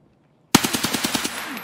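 Burst of rapid gunfire in the video game Escape from Tarkov: a sharp opening shot followed by about ten evenly spaced automatic rounds, loud and close, with no talk over it.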